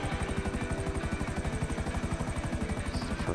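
A helicopter flies in GTA Online on PlayStation 5, its rotor giving a steady, loud, rhythmic chop under a constant engine whine with no pauses throughout.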